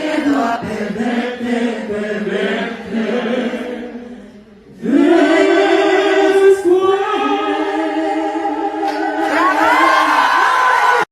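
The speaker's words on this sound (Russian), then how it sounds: "Артиста очень бурно встретили овациями, когда он вошел в зал." A concert audience in Barcelona greets the singer with loud crowd cheering and whoops, a dense roar that dips briefly and then surges back even louder for the rest of the stretch.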